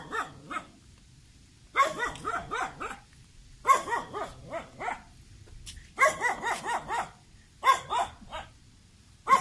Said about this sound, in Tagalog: Mga aso naman.